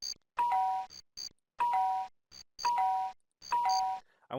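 A synthetic two-tone doorbell chime from the video game Zoombinis rings four times in an even rhythm, bright and clean with silence between the rings.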